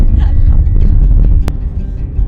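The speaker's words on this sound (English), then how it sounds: "It's very windy. I can't hear you." Loud, steady wind on a snowy mountain in Yosemite buffets the microphone with a deep roaring rumble throughout, one brief sharp knock near the middle.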